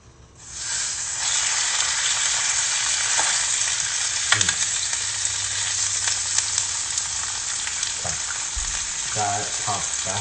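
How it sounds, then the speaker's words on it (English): Pancetta sizzles and spits in hot simmering oil in a pan, a steady loud frying hiss that runs throughout. A few brief stirring scrapes and pops stand out near the end. "when the oil is hot and simmering, add the pancetta, which is the bacon"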